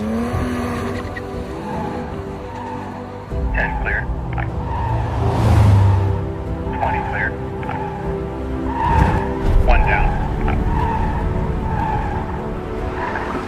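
A Porsche 718 Spyder Roadster on a 50-cone slalom course squeals and skids its tires in repeated bursts over a revving engine, with a voice talking throughout.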